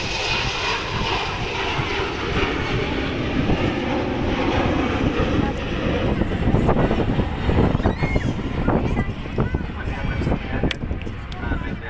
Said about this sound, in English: There's also a plane taking off